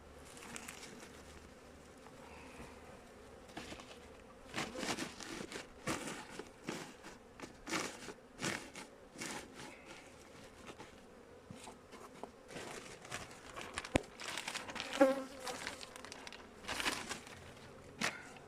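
Honeybees buzz around an open hive during a November inspection while the beekeeper works the frames, a steady mid-level hum broken by frequent soft knocks and handling sounds, with no talk.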